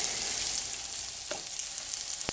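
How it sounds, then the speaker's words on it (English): Basmati rice frying in butter in a cast iron pan gives a steady, dry, crisp sizzle, close and even throughout, with a couple of brief stirring scrapes and taps. "the rice doesn't sound wet and mushy, and the sound of frying is more crisp and dry"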